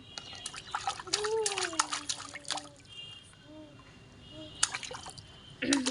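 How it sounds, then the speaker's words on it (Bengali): Water splashing and trickling as a child bathes and swims on a hot day, with small irregular splashes and drips close by while a voice talks over it. "অনেক গরম দেখে চান করতেছো তুমি? সাঁতার কাটো তো, সাঁতার কাটো।"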